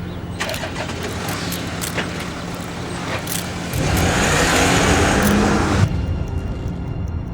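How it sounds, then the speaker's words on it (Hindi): A car engine runs steadily as the vehicle drives off, its rumble swelling louder partway through and then easing back. "गाड़ी चलाओ।"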